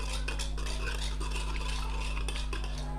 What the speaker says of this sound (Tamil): இப்போ இது எல்லாத்தையும் சேர்த்து நம்ம ஒரு வாட்டி நல்லா மிக்ஸ் பண்ணி எடுத்துக்கலாம்